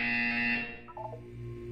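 A buzzer in the video game Portal 2 sounds as one harsh, tonal electronic buzz lasting about half a second. A short wavering electronic tone follows, over a low background hum.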